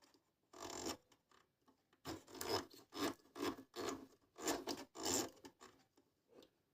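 A Medion MD-19169 overlock sewing machine's knife is worked by hand, giving a run of close, dry rasping strokes in an uneven rhythm, with a pause near the start and then quicker repeated scrapes.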